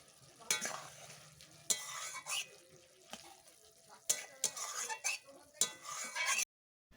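Shrimp curry with green chillies simmering in a pan, giving an intermittent bubbling, stirring clatter with louder bursts of utensil scrapes, close and moderately loud, ending in a sudden silence.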